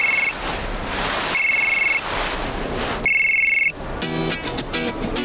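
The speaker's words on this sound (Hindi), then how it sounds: "किसका फोन है?" A phone ringtone sounds in three short bursts of a steady electronic tone, separated by pauses, over a loud background hiss, followed by clattering noise.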